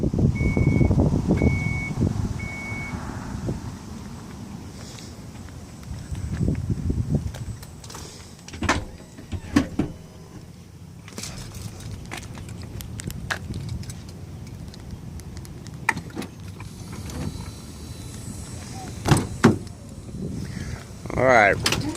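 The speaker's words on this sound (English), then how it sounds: "We're going to close that hatch down," Power rear hatch of a 2019 Dodge Caravan SE wheelchair mobility van closing, with a short series of evenly spaced warning beeps at the start, then motor whir and soft clunks, with a voice speaking.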